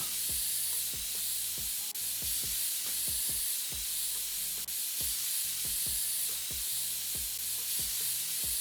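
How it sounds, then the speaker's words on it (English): Compressed air blasts steady dust-clearing hiss across a PC case inside the PC Building Simulator game, a continuous bright spray with soft rhythmic low clicks beneath it, no voices. "destroy our lungs with some compressed air, blowing this dust all around the shop"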